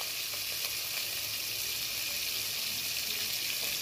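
Shrimp frying with onion and green chillies in a pan, a constant bright hissing sizzle, even and close, with no talking.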